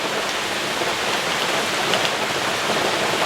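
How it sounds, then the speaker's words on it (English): Heavy rain pours steadily during a storm, a dense, close hiss of drops with no voices. "Rain's picking up too."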